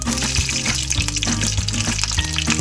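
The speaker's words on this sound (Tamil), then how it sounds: "நல்லா பொரிஞ்சு வந்த உடனே நம்ம கட் பண்ணி வச்சிருக்க பச்சை மிளகாவை சேர்த்துக்கலாம்." Green chillies frying in hot oil with spluttered mustard seeds and urad dal for a tomato thokku, a continuous loud crackling sizzle with rapid popping, close and alone without speech.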